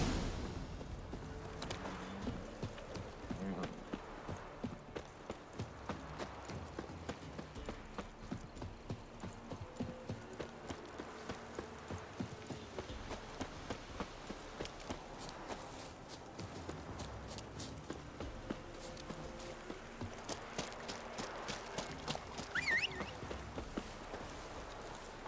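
Horse hooves clip-clop at a steady walking rhythm in The Witcher 3, close and clear over faint game ambience, with no talking.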